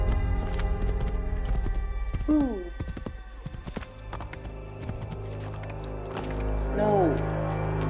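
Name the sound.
horse galloping in the video game Assassin's Creed 3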